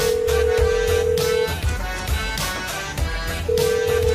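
A telephone rings loudly in bursts, its steady electronic tone sounding for about a second and a half, pausing, then starting again near the end over background music and room noise.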